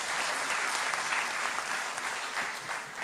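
A crowd at a hospital event gives loud, dense applause for Ram Shinde. The clapping is sustained and even for the full length, with faint background voices.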